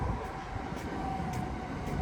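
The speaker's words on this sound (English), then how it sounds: "commuter train heading on into Paddington." A Great Western commuter train rumbles past overhead on a London railway line, a steady broad roar of wheels and carriages with a faint tonal hum, continuous and fairly close throughout.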